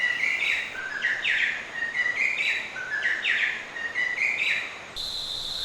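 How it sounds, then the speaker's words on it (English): A Sri Lanka spurfowl calls noisily in rainforest, giving rapid repeated shrill whistling phrases in a rising, rolling series, fairly close and loud over a soft background hiss. "the endemic Sri Lanka spur fowl noisily announces that it's on its way"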